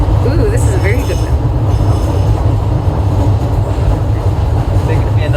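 A DLR driverless train rumbles past on the rails close by, loud and continuous with a rolling roar of wheels, and faint brief squeals.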